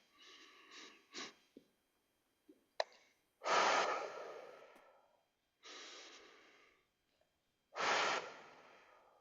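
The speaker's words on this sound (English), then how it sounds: "Breathe out through pursed lips." Several slow, forceful exhalations through pursed lips during a breathing exercise class, each a breathy hiss lasting about a second, with a few shorter puffs at the start and quiet pauses between them.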